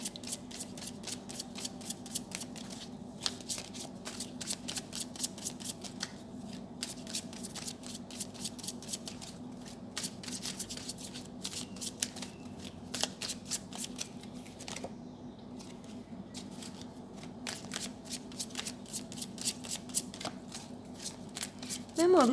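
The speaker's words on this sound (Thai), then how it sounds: "ขอไพ่แนะนำให้กับราศีมีนหน่อยนะคะ" Tarot cards are shuffled over and over in a quick, close, papery riffle that ticks through the whole stretch, with a soft speaking voice faintly beneath it.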